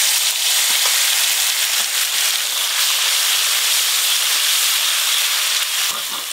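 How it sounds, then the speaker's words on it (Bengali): Ground spice paste fries in hot mustard oil with whole garam masala and bay leaves, giving a loud, continuous close-up sizzle and hiss that barely changes. "এবার এই বাটা মশলাটা দিয়ে দেব।"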